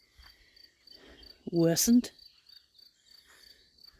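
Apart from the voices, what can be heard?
crickets chirping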